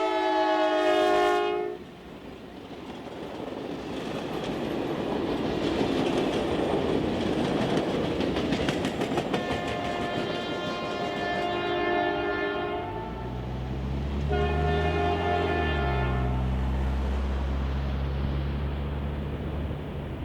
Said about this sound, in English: we find the train splitting the vintage Frisco crossing signals at Highway 282.